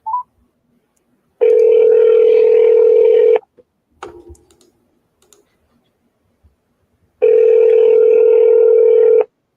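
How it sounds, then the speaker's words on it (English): Landline telephone dial tone sounding loud and close in two steady bursts of about two seconds each, separated by a short run of clicks and dialing taps, with no talking. "So now let's give these two people a call."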